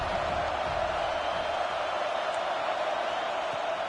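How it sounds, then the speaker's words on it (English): Steady, dense roar of a large college football stadium crowd at Arkansas versus Auburn, continuous and loud throughout with no distinct voices standing out. "This crowd bringing the energy and noise early."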